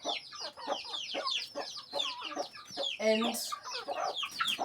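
Mother hen in an African village yard clucking busily and repeatedly, close by, a rapid stream of short clucks with a brief harsher call midway, a word spoken faintly once.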